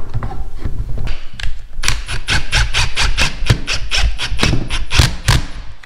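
A screw is driven into a repaired, previously stripped hole in wood, giving rapid repeated grinding and squealing bursts up close, with a brief pause early on.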